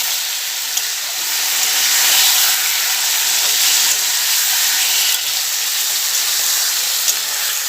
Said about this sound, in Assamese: এতিয়া পূৰা মাংসটো ঢালি দিছোঁ।